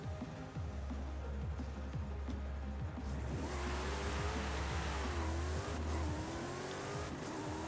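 A car engine in the racing game Forza Horizon 5 drones and revs continuously, with the pitch rising and falling through gear changes, loud and steady with no talk.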